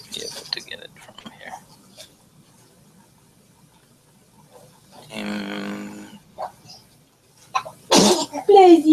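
A single sharp sneeze bursts out near the end, loud and close, following a stretch of quiet room sound and faint speech.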